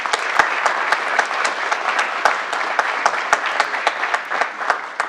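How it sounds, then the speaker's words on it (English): A large audience claps steadily through a town's State of the Town address in Gilbert, Arizona, with a full, even wash of applause and a few sharper nearby hand claps standing out. "Let's give him a round of applause."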